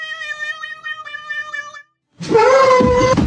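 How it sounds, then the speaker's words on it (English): An orange cat lets out a loud, harsh meow, a strained drawn-out cry heard close up after a brief pause that follows a steady tonal sound. "aggressive meow of pure bliss."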